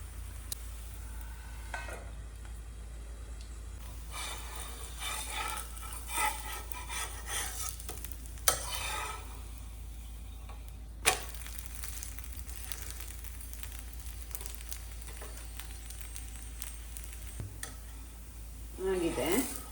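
Dill leaf and avarekalu rotti frying in oil on a pan, a soft continuous sizzle with occasional scrapes and clinks of a utensil, and a voice talking over it at times.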